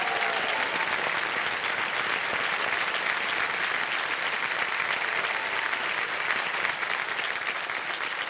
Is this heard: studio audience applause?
yes